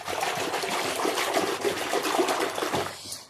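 Water sloshes and trickles as lemon juice is stirred into a basin of water by hand, a continuous close splashing that fades out at the end.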